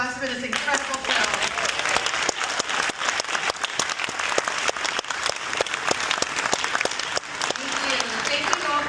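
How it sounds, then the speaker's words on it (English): An audience at a Sing Sing screening and Q&A in a museum auditorium breaks into sustained applause, loud crisp clapping from many hands with cheers and talking woven through. "Please, another huge round of applause for this incredible film."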